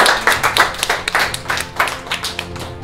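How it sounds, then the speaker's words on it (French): Classroom applause for a pupil who answered correctly: a group of children clapping together in a steady, dense patter, close and lively for a few seconds with no voices. "D'accord, on l'applaudit."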